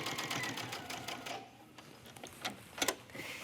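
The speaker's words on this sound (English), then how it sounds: "Now you're stitching through both plackets and the garment." A sewing machine runs in quick bursts of rapid stitching through button plackets and a tunic garment, close and steady, with short pauses and a few sharper clicks near the end.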